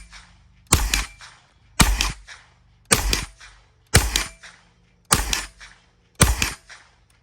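Six spaced shots from a Kriss Vector 9mm firing Remington hollow points, each a sharp loud crack with a short echo tail, about one second apart, heard close on an outdoor range.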